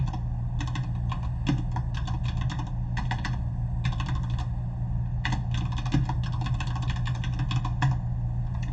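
A computer keyboard is typed on in quick bursts of close, crisp key clicks with brief pauses between words, over a low steady background hum.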